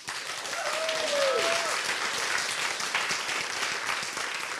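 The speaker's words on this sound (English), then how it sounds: "This applause was for them" A conference audience at a lesbian gathering applauds in a thick, continuous wash of clapping, steady and fairly loud, with a brief whoop rising over it early on.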